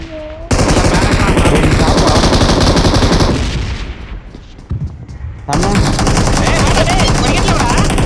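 Automatic gunfire in the PUBG Mobile battle royale game rattles in loud, rapid sustained bursts, dropping briefly to a lull before another long burst resumes, while players talk over the game audio.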